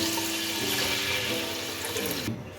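Three glasses of water pour steadily and loudly into a pot of whole masoor lentils, the sound rising slightly in pitch as it fills, then stops abruptly.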